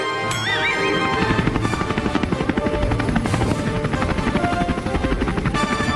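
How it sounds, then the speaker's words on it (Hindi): A helicopter in an animated cartoon, its rotor chopping steadily and loudly throughout, a dense rapid thudding with a bright whine above it, with no voices. "अरे हमारे गांव में हेलीकॉप्टर"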